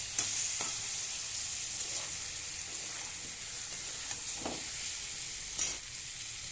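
Mango pieces frying with spices in a pan give a soft, continuous sizzle, and a few quiet stirring scrapes come at intervals with no voices.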